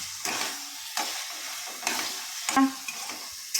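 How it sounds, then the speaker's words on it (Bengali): Taro greens with hilsa fish heads stirred in a pan, four or five distinct scraping strokes of a spatula over a light sizzle, close and fairly loud, with no voices. "সমস্তটাই দিয়ে দিলাম, দিয়ে এবার একটু নাড়াচাড়া করব"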